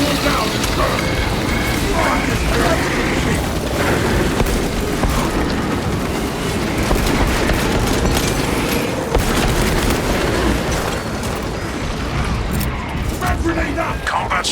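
Frag grenade blast amid heavy combat in Warhammer 40,000: Space Marine 2, with booming explosions and gunfire rolling continuously at loud level while game voices speak over the din.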